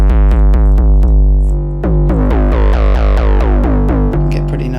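A loud 808-style bass patch from the Korg Drumlogue nano synth engine, built from two square waves an octave apart, pulses in rapid repeated notes. Its filter sweeps audibly across each note, and no one talks over it.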